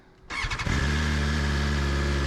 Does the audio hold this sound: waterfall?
no